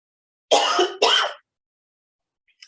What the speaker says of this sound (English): Oh, I hate coughing these days.